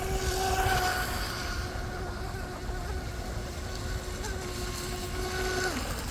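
A J&R Marine H15 mini RC hydroplane running at full throttle through a turn, a steady high-pitched motor whine carried across the water at moderate distance, dropping off at the end.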